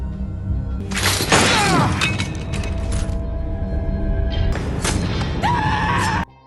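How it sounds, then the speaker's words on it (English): A film bomb explosion bursts into a loud, shattering crash with debris and breaking glass, followed by sustained roaring rumble and a second burst of clatter before cutting off abruptly. "in the ensuing struggle, the bomb explodes"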